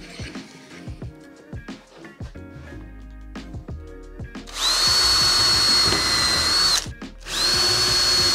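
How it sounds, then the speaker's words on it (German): A power drill bores a line of holes into a walnut tabletop. A few quiet clicks and taps come first, then two loud, sustained whining drill runs separated by a short pause. "Dazu baue ich mir jetzt mittig ein paar Löcher rein"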